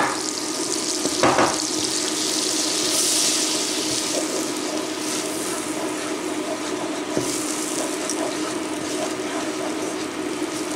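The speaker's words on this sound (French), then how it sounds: "Une fois que mon beurre est fondu, je viens mettre la farine." Flour cooking in melted butter in a pan for a sandwich filling, giving a steady sizzling, frying hiss with faint stirring scrapes throughout, close and fairly loud, with no talking.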